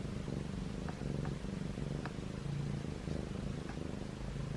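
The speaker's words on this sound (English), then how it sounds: "He's purring so loud." A cat purrs steadily and loudly up close, a continuous low rumbling throb with faint background noise and no talking.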